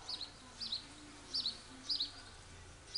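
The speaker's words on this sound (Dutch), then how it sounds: "Je hoort ze twitteren." Small birds chirp outdoors near a house roof, short high tweets repeating about every half second, fairly close but soft over a quiet background hum.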